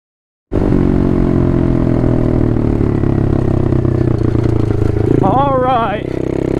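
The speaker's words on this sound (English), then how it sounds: "The exhaust is so loud." Apollo 125 RFZ Chinese dirt bike under way, its loud exhaust a steady, harsh engine drone that starts abruptly and holds near and dominant throughout, dipping slightly at the end, with brief voiced sounds over it.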